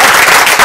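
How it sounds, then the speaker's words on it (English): Loud, dense round of applause from a party audience at an MC's show, a continuous close wash of many clapping hands filling the brief moment with no speech. "Let's give a round of applause."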